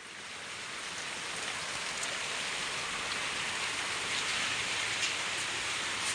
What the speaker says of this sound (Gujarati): બહાર તો વરસાદ જબરજસ્ત ચાલુ છે વરસાદ બરોબરનો ચાલુ છે